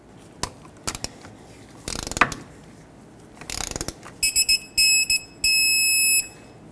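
A torque wrench tightens a brake hose banjo bolt with copper washers on the caliper of a 2006-2010 Hyundai Sonata: close bursts of ratchet clicking, then a run of sharp, high electronic beeps, with no talking.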